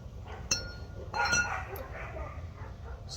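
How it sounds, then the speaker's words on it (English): Dogs scuffling and yelping at a distance in a garage during a Lexus SC430 wheel bearing job, faint growls and whimpers mixed with metallic clinks of tools close by, with low voices now and then. "Sounds like the dogs are fighting."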